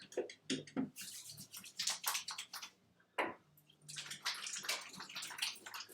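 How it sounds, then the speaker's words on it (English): Hands washed under running kitchen tap water, with uneven splashing and sloshing close by that comes in bursts with short gaps and a brief pause midway. "wash your hands before you do any of this"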